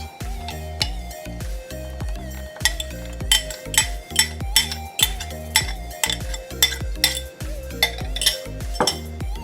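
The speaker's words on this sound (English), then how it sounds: "now I'm gonna add the beaten eggs to the crushed bananas." Beaten eggs stirred into crushed bananas in a bowl for Jamaican banana fritters, giving a run of rhythmic clinks and taps of a utensil against the bowl, close and fairly loud, with no voices.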